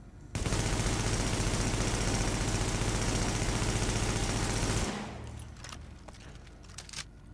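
A rifle in The Division fires a long unbroken automatic stream of rapid shots at close range, about four and a half seconds, then stops and leaves quieter background noise with a few faint clicks.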